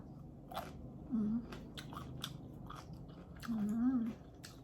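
Pickled daikon radish eaten with sushi, chewed close to the mic in soft crunching bites, with a voice humming appreciatively twice.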